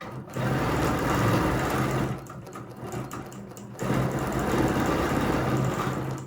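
A sewing machine stitches a quilt design in steady, fast runs, close and loud, pausing briefly in the middle before the whirring stitching starts again.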